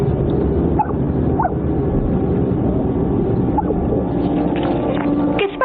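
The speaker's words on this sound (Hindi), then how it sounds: "स्टूपिड डॉग है, सुबह से भौंक रहा है ये" A dog barks several times in short, sharp bursts spaced a second or so apart over a low steady background, with no talk.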